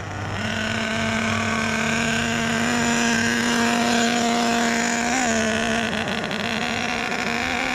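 An HPI Savage XL RC truck's K5.9 nitro engine idles steadily just after its first start, carburetor at factory needle settings and running very rich, a loud buzzing drone with a slight pitch dip near the end and no talk.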